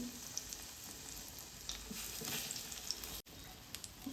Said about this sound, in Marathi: ब्रेड आहे ते कडक करून घ्यायचे आहेत नाहीतर मग असेच ठेवलेत तुम्ही तर ते लगेच मऊ पडतील म्हणून पहिल्यांदा तव्यावर असे परतून घ्यायचे थोडे